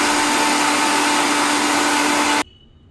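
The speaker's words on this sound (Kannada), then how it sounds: "ಮಿಕ್ಸಿಗೆ ಹಾಕ್ಕೊತೀವಿ" A kitchen mixer grinder runs with ragi mixture and water inside, a loud, steady, close motor whir that cuts off sharply near the end, leaving near silence.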